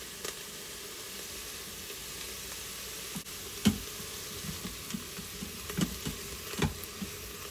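Vegetables sautéing in an Instant Pot, a soft steady sizzle with occasional light pops and stirring taps, quiet and close with no one talking.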